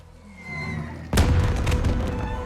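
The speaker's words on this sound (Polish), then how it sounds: "Fajerwerki. To sygnał!" Fireworks signal in the video game God of War Ragnarok, a sudden booming burst followed by crackling, sputtering explosions, loud and close after a quieter ambient lead-in.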